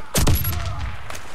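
Suppressed assault-rifle fire in the Warface video game: a few muffled, close shots packed into a quick burst near the start, then one softer report about a second later.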